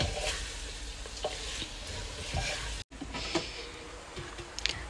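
Frozen prawns, cashews and spices fry in a pan while being stirred, giving a steady close sizzle with soft scraping strokes and a brief break partway through.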